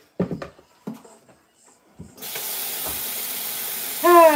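After a few clunks and knocks, a steady hiss of tap water starts and keeps running while someone washes their hands at a kitchen sink, moderately close and even in level.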